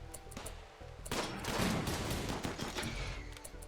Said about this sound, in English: Silveranus, start running up here to open fire.